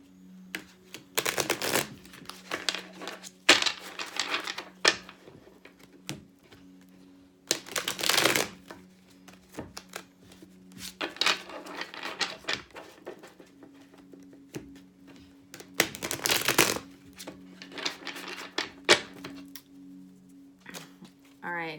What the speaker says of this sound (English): Do a quick shuffle here.